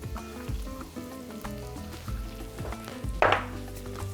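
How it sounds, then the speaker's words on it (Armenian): Mushrooms fry in a hot pan with a steady close sizzle, broken by the light scrape and tap of stirring and one brief louder hiss near the end. "Թող տապակվի սունկը"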